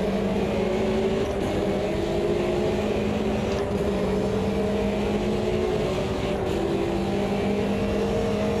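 Race car engine in the Automobilista 2 racing game, a loud steady high-pitched drone whose pitch steps and shifts as gears drop, running continuously and close without pause.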